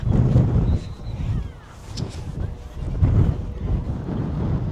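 Steady wind gusts buffet the microphone in Old San Juan, Puerto Rico, with a low rumbling roar that swells and dips, with faint water or waves in the background.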